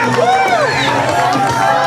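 A wrestling crowd at an indie event cheers and shouts loudly and continuously as Mullet Man comes down to the ring, with voices rising in rolling bursts of excitement.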